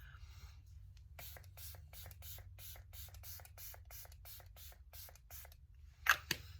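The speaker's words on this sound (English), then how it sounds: "This is the Prime Set and Refresh Dewy Spray." A dewy setting spray from Item Beauty (Prime Set and Refresh) pumped in a quick, steady run of about a dozen short, close misting bursts over a low background hum, ending with a sharper click.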